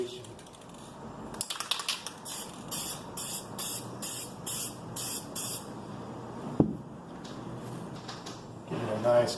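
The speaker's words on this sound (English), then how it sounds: "in a sweeping motion, just go ahead and start spraying it" A spray paint can hisses inside a fireplace in repeated short sweeping bursts of about half a second each, fairly faint against a quiet room with a soft knock partway through.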